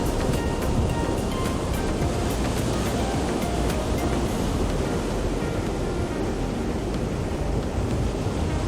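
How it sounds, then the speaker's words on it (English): Ocean waves breaking on a beach at Captiva, a steady broadband wash of surf that rolls on continuously at a loud, even level with no voices. "listen to the waves"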